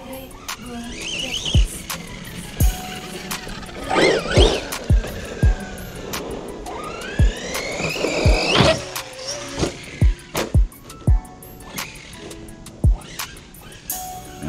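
A Redcat Kaiju RC monster truck runs in short throttle bursts, its electric motor whining up and down over repeated sharp clicks and knocks, fairly close, with no talk over it.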